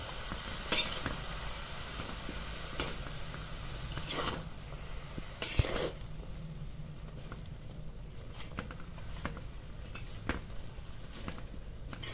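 Dal and cabbage stir-fry is tossed in a pan with scattered spoon scrapes and clinks over a faint continuous sizzle, quiet and without talk.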